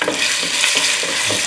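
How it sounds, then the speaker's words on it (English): Ginger, garlic and lemongrass frying in a pan for a curry base, a steady close sizzle with soft scraping stirs recurring every few tenths of a second, alone with no talk. "A quick stir."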